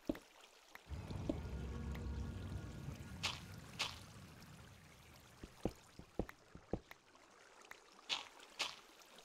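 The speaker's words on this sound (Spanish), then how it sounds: "Vamos, encontré la cascada" Water runs steadily from a waterfall in the Minecraft video game, a continuous rushing flow that fades partway through and gives way to scattered soft clicks and drips.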